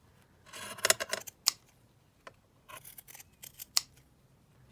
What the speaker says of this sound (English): So let's just trim that down.